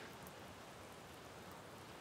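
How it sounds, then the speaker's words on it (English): Steady rain falling on and off, a soft, even hiss of drops on surfaces that stays constant throughout, fairly faint and distant with no voices over it. "It's been raining on and off like this for hours."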